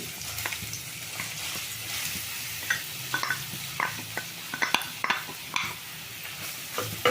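Carrots fry in ghee in a pan for carrot halwa, a soft sizzle broken by frequent scraping and stirring clinks of a spoon against the pan, fairly quiet and without voices.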